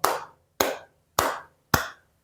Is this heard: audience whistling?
no